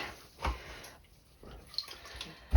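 Water drips and splashes from squeezed-out cotton yarn samples dyed with fibre reactive dye, a few close wet trickles and patters separated by short silences, ending in a louder splash.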